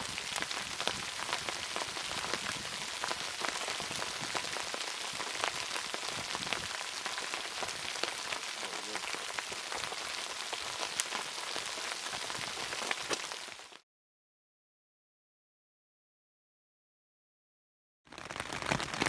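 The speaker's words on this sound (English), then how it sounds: "It's been raining all day long." Steady rain falling at a lakeside campsite on Norway Lake in Algonquin, a dense continuous patter close by that stops abruptly into silence before resuming at the very end.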